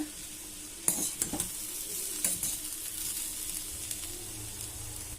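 Beetroot palya stirred in a pan with grated coconut, giving a few sharp scraping strokes over a quiet, steady sizzle, heard close up without voices.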